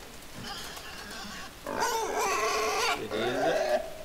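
Pig from the video game Inside letting out grunting oinks and squeals, a few bursts of moderate loudness over faint background ambience.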